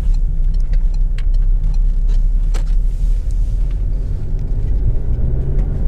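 A Peugeot 308 1.6 HDi Active five-door diesel hatchback drives and swings around, giving a steady, close, continuous engine and road rumble heard from inside with no talking.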